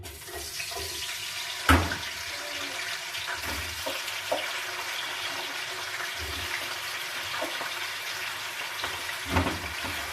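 Potatoes frying in a small amount of oil in a home kitchen: a steady, fairly loud hiss and crackle of sizzling, broken by a few sharp clinks and knocks from a pan or utensil.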